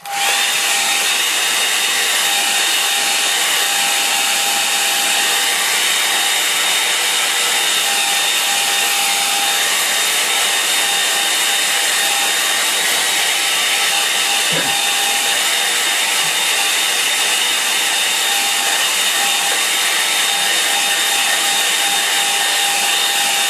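A hair dryer blows continuously on painting work, a loud, steady, close whoosh with a constant whine, running alone without talk.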